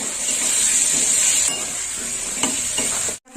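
Chili paste and ginger paste stirred and frying in a pan for a raw banana kofta curry, a steady close sizzle with scraping stir strokes throughout, briefly cutting out near the end.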